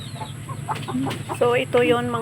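Native backyard chickens, some of them sick, give a few close, loud clucks and calls while someone talks over them.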